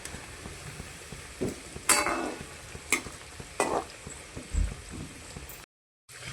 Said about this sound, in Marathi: वड्या झालेल्या आपल्या तळून या.